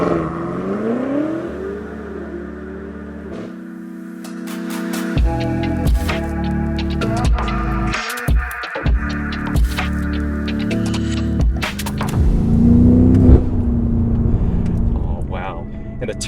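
BMW F90 M5 engine on the move, its tone climbing and dropping through revs with gear changes, a close, throbbing hum under occasional talking inside the cabin.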